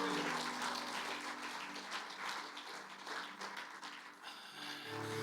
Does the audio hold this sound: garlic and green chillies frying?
no